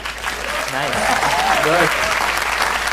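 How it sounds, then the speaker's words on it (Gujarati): Audience applause at a live Gujarati comedy talk show, steady crowd clapping throughout with a voice speaking over it. "વગાડો જોરથી તાળી વગાડો"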